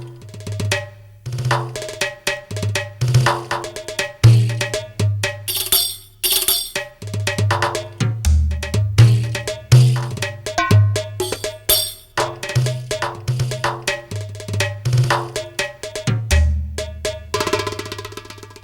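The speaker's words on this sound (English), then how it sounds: "This is a frame drum patch." Frame drum patch on a Roland HandSonic hand percussion pad played with the fingers, producing a busy stream of deep booming strikes mixed with sharp slaps and rim-like taps in a steady, varied groove, close and unaccompanied.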